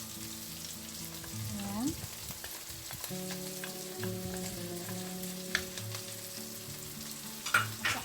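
Ground pork frying in a pan while being stirred as oyster sauce is added, with a steady sizzle, scraping stirs and a brief word spoken over a low background hum.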